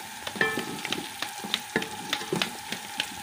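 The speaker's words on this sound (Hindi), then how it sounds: "आप इसमें ये हरी मिर्च शामिल कर देंगे। थोड़ा भून लेंगे।" Green chillies frying with onion, ginger and garlic, a quiet, steady sizzle broken by regular scraping strokes and small clinks of stirring, close by with no talk.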